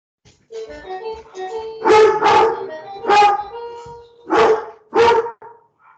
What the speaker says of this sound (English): Give me just a second to deal with my dog.